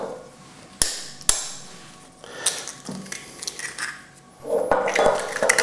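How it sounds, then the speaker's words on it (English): Three eggs cracked one after another against the rim of a cake batter bowl, giving two sharp, close taps followed by wet dripping and squishing as the contents slide in, with no talking. "Now I'm just going to crack the 3 eggs"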